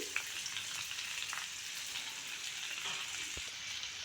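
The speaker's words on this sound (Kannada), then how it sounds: "ಅದರೊಳಗೆ ಒಂದಿಷ್ಟು ಸಣ್ಣದಾಗಿ ಹೆಚ್ಚಿಟ್ಕೊಂಡಂಥ ಉಳ್ಳಾಗಡ್ಡಿ ಹಾಕಕತ್ತೀನಿ." Finely chopped onions fry in a pan for masala pav, a steady, even sizzle with bubbly crackle throughout, close and alone with no talking.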